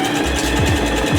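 A beginner's sewing machine stitches fabric that keeps bunching under the foot, giving a loud, close, continuous mechanical hum with rhythmic thumping needle strokes throughout.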